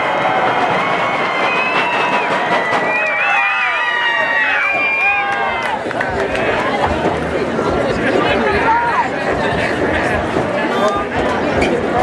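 A lively crowd at a county fair destruction derby cheers, whoops and whistles, with loud overlapping voices and babble throughout.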